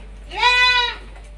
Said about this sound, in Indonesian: Kambing komunal, rata-rata kambing.